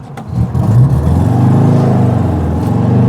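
A 1972 Volkswagen Beetle engine revs high and steady for a few seconds while pulling away, a loud, close droning roar with no talking.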